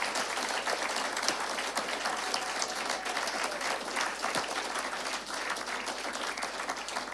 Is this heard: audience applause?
yes